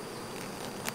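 Honey bees buzz around stacked honey supers as a beekeeper removes them, a steady close insect drone throughout with a brief louder swell near the end.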